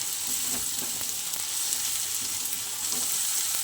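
Frying in a pan while making rohu fish curry, a steady, even sizzle with faint stirring, alone and fairly quiet.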